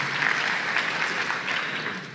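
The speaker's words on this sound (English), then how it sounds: "that does deserve a round of applause" A crowd at a university open house claps steadily in a full round of applause, loud and continuous, with no one speaking over it.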